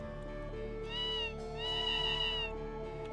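A cat meows twice in the video game Tales of Phantasia, a pair of clear drawn-out mews over a steady game music bed.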